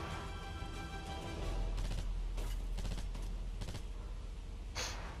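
Rapid gunfire in Call of Duty: Modern Warfare 3, a dense run of shots and bursts over a constant rumbling battle bed, ending in one sharp crack near the end.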